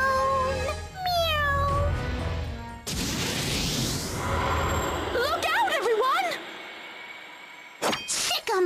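Cartoonish cat meows from the video game Bravely Second, several rising and falling mewing calls in a busy game soundtrack with crashes and a voice speaking over them.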